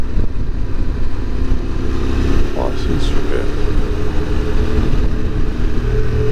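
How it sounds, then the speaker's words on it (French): QJ SRT600SX motorcycle riding a mountain road in the Pyrenees, a loud steady engine drone mixed with wind rush throughout, with a rider briefly speaking over it. "Très sympa cette virée moto en montagne dans les Pyrénées."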